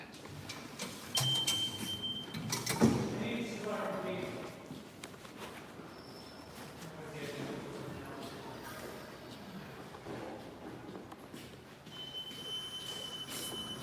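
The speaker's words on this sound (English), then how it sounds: "This is a recently renovated subway station. They did a lot of renovations to the Sea Beach line." Subway train in a recently renovated Brooklyn station on the Sea Beach line, a steady rumble of rail noise with a brief louder screech near the start and sustained high squealing tones, heard under a speaking voice throughout.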